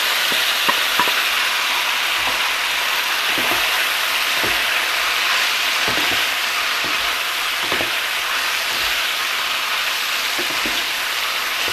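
Mushrooms stir-fry with pork belly and ginger in a hot pan, a loud continuous sizzle broken by regular scraping strokes of a spatula.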